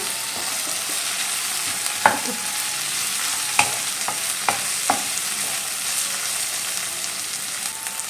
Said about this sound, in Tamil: ஒரே ஒரு தக்காளி பழம். இதையும் சேர்த்து நல்லா வதக்கிக்கோங்க.